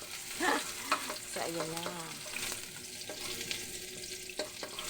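Ginger and garlic sauté in a hot pan for chicken pinamatisan, giving a steady sizzle with scraping stirs and a few clinks, while a voice speaks briefly near the start.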